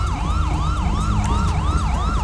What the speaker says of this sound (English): We're gonna get an ambulance in here.